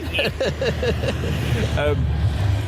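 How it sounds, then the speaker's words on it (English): Road traffic rolling past outdoors, a steady low rumble of passing vehicles and trucks sitting under a person talking close by throughout. "We are by a road, so you're probably gonna get traffic pickup as well."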